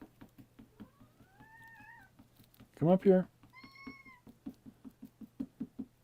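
A squeaky new cat gives a few short, high meows up close over steady rhythmic tapping, while a person talks briefly.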